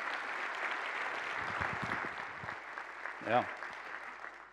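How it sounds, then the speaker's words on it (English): A large conference audience at a DrupalCon keynote in Amsterdam applauds the Composer initiative, a soft, distant wash of clapping that sustains throughout while someone speaks briefly over it. "quick hands applause for the Composer initiative"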